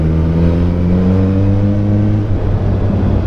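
A Suzuki Hayabusa motorcycle engine drones steadily up close, a loud, smooth mid-pitched hum that rises slightly as if under throttle while riding, with no speech.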